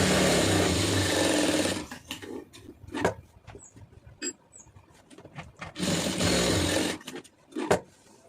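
A sewing machine stitching a blouse runs in a steady, close whirring burst for nearly two seconds, then comes in short stops and starts with clicks, then a second longer run and a few last taps.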